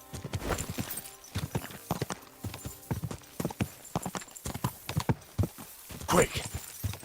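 A horse's hooves clip-clop in a steady, close, irregular rhythm, with a brief whinny-like burst near the end. A voice is heard in the background.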